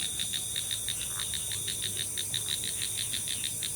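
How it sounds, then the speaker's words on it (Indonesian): Frogs croaking at night at a resort in Yogyakarta: a steady run of rapid, evenly spaced high chirps repeats throughout over a constant hiss of night ambience, with no voices. "Aku hanya denger suara kodok."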